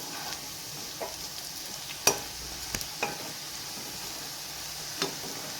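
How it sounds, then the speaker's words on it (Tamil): Potato fry stirring and sizzling in a pan, a soft continuous sizzle under occasional scrapes and knocks of a spatula against the pan, with a sharp clack partway through. "ஒரு 1 நிமிஷம் வேகவும் அப்படியே புரட்டி விட்டுக்கலாம்"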